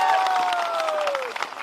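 A crowd at a political rally in Bihar breaks into applause, with a dense, steady wash of clapping and some cheering at moderate distance, while a whistle-like tone slides downward over it.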